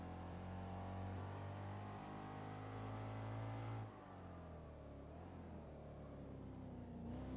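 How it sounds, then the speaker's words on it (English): A BMW M3 engine in the racing game Gran Turismo 4 drones with a steady buzzy whine, rising under acceleration, then drops in pitch as it shifts and climbs again, heard alone without talk. "I hear him buzzing again. A little buzzy M3."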